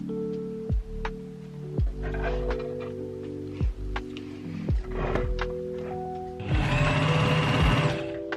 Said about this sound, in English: I have just sewn both pockets onto the side